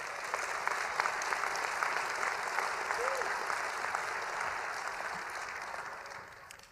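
A graduation ceremony audience applauds the college support staff with a sustained round of clapping that fades gradually toward the end.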